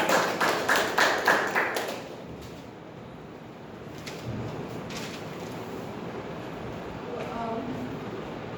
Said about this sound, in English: And a round of applause for Dia